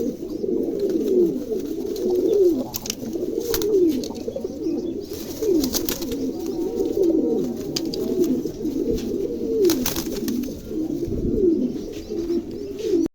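A pair of American Carneau pigeons coo steadily and close by, rolling throaty calls repeating in overlapping rhythmic phrases, with faint chirps and background rustle.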